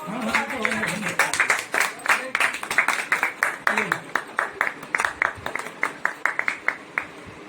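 An audience at a Lucknow poetry gathering claps in a steady, rhythmic beat. The sharp, close claps speed up into an even pulse and continue for several seconds.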